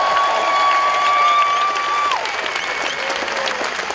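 Crowd applause and cheering for the Pope at the start of the Macerata–Loreto pilgrimage, steady and fairly loud throughout, mixed with a sustained tone and a voice.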